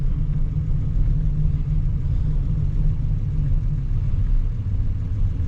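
A fuel-injected Datsun 280Z on a test drive after tuning gives a steady, loud low engine drone and road rumble that holds evenly throughout, with no voices.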